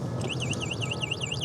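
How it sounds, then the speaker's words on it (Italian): A DYU A5 folding electric bike's anti-theft alarm sounds loud and close, a shrill, rapidly warbling siren that sweeps up and down in a steady repeating pattern over a low background hum. "Vado ad inserire l'allarme e se qualcuno muove questa bici"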